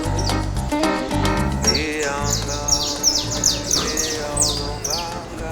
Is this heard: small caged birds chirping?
yes